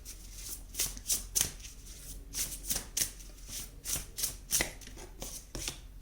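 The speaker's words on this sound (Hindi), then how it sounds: "एक कार्ड और ले लेते हैं।" Tarot cards being shuffled and drawn by hand, a steady run of soft riffling slaps and flicks in quick bursts, close and fairly quiet over a low background hum.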